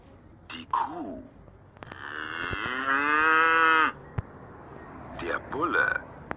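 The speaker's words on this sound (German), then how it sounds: "Die Kuh." A cow lets out one long, drawn-out moo, with shorter lowing calls from cattle just before and after it.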